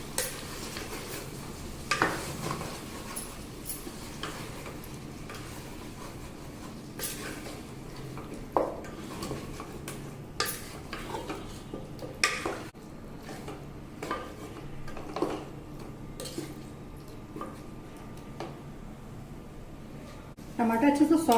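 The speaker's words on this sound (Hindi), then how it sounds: "धनिया पाउडर, मिर्चा पाउडर, हल्दी पाउडर, बिरयानी पाउडर, सबको अच्छे से मिक्स कर ले रहे हैं।" A spoon scrapes and clinks against a pot while coriander, chili, turmeric and biryani powders are stirred in for a Sindhi biryani, faint irregular taps with light sizzling underneath and a voice talking throughout.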